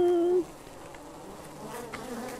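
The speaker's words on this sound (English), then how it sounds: "Very angry bees." Swarm of angry bees buzzing in the video game Arid, a steady insect drone that follows a brief louder tonal hum at the start and continues faintly with no one talking.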